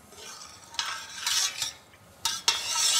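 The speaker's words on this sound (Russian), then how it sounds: "Размешаю мед, чтобы он полностью растворился." A utensil stirs honey into boiling brine in a pot, with a few scraping swirls and clinks over a soft steady bubbling hiss.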